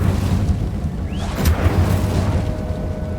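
The Incendio fire spell in Hogwarts Legacy bursts into a low, roaring rumble of flame, a steady heavy whoosh that holds for a few seconds with a brief brighter flare near the middle.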